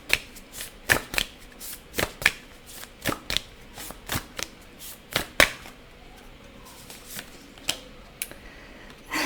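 A deck of tarot cards is shuffled by hand in a quiet room, giving close, crisp bursts of riffling and slapping in an irregular rhythm with brief pauses, with no talking.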